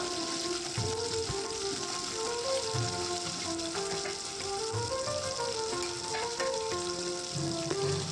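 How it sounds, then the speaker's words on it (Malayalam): Garlic and shallots frying in coconut oil, giving a steady close crackling sizzle that runs throughout, with a faint tonal hum in the background. "ഇനി ഇത് നന്നായിട്ട് വെളിച്ചെണ്ണയിൽ ഇട്ടിട്ട് നല്ല പോലെ ഒന്ന് മൂപ്പിച്ചെടുക്കുക"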